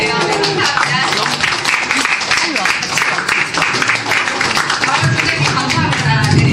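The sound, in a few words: audience applause welcoming the cake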